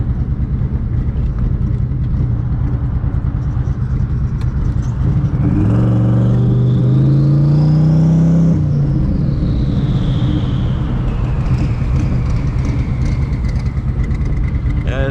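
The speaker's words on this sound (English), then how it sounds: "Just roasting the tires in first gear." A twin-turbo Ford Cobra at wide open throttle on the street, roasting its tires in first gear: loud, close engine roar climbing sharply in pitch with a turbo whine, then easing back over a constant rumble.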